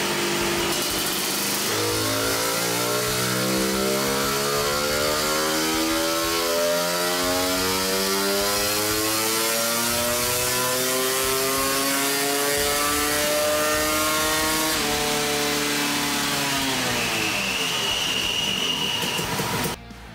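A CR500 two-stroke engine fitted with a Panthera CR560 cylinder revs on a dyno, climbing steadily in pitch through a long, loud, continuous pull before dropping off abruptly at the end.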